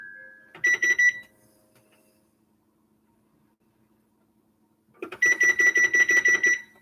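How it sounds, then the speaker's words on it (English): A kitchen timer set for 30 minutes while baking apple pie oatmeal gives two bursts of rapid, evenly spaced electronic beeps. A short run is followed by a long silence, then a longer string of loud, close beeping. "So over here, I'm going to set the timer for 30 minutes."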